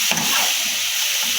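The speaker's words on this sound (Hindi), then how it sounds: "अब वो वाले कद्दू शामिल करेंगे जिन्हें हमने कद्दूकश कर लिया था। इन्हें भी हमने अच्छे से भून लेना है।" Grated pumpkin frying with spices in a pan, a steady dense sizzle and crackle with faint stirring scrapes, close and continuous with no voices.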